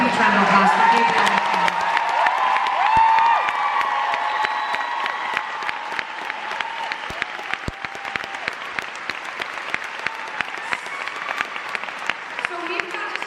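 A theater audience at a concert at the Queen Elizabeth Theatre bursts into loud, sustained applause with cheers and whoops, gradually thinning into scattered clapping while a voice talks over the crowd.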